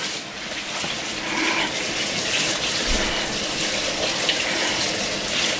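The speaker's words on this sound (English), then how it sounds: "Okay, let's get the potatoes on. Gotta get them washed." Tap water runs steadily into a kitchen sink as potatoes are washed under it, a close, even gushing and splashing with no pauses and no talk.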